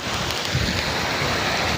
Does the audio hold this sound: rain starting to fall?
yes